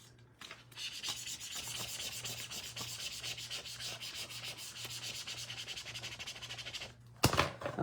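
Stencil letters being burnished by hand, a steady rhythmic rubbing and scraping of a tool over the stencil that runs for about seven seconds, close and fairly loud, then stops briefly before a sharper rustle at the end.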